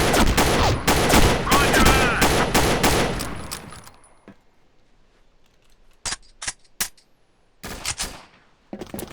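Rapid bursts of automatic gunfire from the video game Combat Arms fill the first four seconds, loud and dense, then fade to scattered sharp single shots and short bursts separated by near silence.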